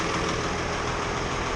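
A rebuilt 8210 tractor engine, fresh from an in-frame rebuild, runs at a steady idle close by, its loud, even rumble unbroken for the whole stretch, with no voices.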